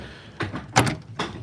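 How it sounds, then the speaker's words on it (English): A vehicle's side door opens with a soft latch clunk followed by a sliding rumble and a brief thump, close and fairly quiet, with no voices. "Here, I'll go in the side door."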